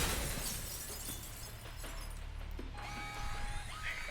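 Glass shatters in the video game Alpha Protocol: a sudden crashing break at the start, fading into tinkling debris, followed by faint electronic tones.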